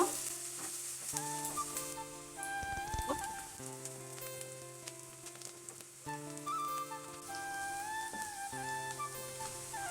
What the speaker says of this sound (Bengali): সবগুলোকে এবারে কিছুক্ষণ সময় ধরে ভালো করে ভেজে নিব